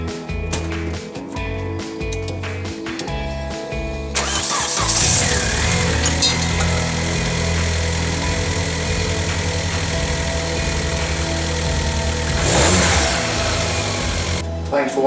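Car engine cranking and catching after a spark plug change, a low, steady running rumble up close with a rise in revs partway through and a brief louder flare near the end, under light background noise.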